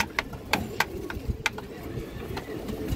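A female pigeon coos softly in a pet market setting, giving a few faint, low, throaty calls amid scattered clicks, taps and background bustle.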